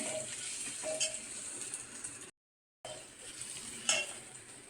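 Onions frying in a pan, a quiet, close sizzle with light stirring scrapes and a couple of soft utensil taps, cut by a brief stretch of silence.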